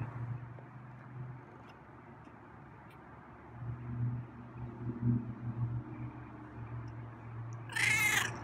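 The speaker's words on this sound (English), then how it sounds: "that's a really nice purring meow" A cat purrs with a low, steady rumble close by, then gives a short meow near the end.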